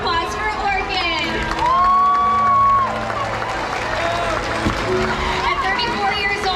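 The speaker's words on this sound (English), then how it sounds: "please give a big round of applause for Orchid" A SeaWorld San Diego audience claps and cheers for Orchid the orca, a steady roar of applause and crowd noise with voices and a rising, sustained whistle-like tone riding over it.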